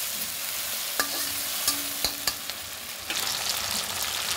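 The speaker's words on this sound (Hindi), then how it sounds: "प्याज, अदरक लहसुन का पेस्ट, राई, करी पत्ता, टमाटर सब अच्छे से हमारा इसमें भुन जाएगा" Onion, tomato, ginger-garlic paste, mustard seeds and curry leaves frying in a pan as a semolina snack base cooks: a steady soft sizzle with a few scattered clicks and pops, no talking.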